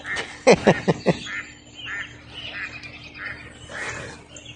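A duck quacks in a quick burst of four or five loud, harsh calls, then goes quiet. Soft outdoor ambience and faint distant calls follow.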